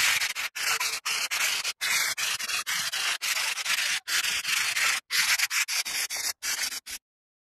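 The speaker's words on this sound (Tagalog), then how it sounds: "mag-sand tayo ng konti para lang matanggal yung mga sobra-sobrang semento at para mas kuminis pa" Acrylic cement industrial wall finish (Davies Wall Art Industria) being hand-sanded to smooth off excess cement, heard as close, steady rasping strokes in a rhythmic series with brief pauses between passes.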